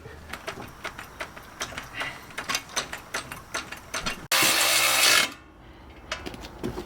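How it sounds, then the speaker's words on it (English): Scissor or bottle jack ratcheting under the cross member of a tuned 2019 Ford F-150 EcoBoost during a leveling kit install, a steady series of close metallic clicks, then a brief loud burst of noise and a quieter tail. "now you jack it up from this cross member till these line up"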